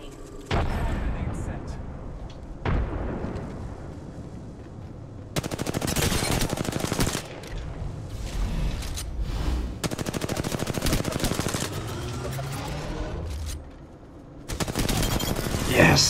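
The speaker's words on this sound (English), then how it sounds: "I'm under fire." Heavy automatic gunfire and weapon bursts in an Apex Legends battle royale trios match, loud and near in several sustained volleys with short lulls, with voices talking over parts of it.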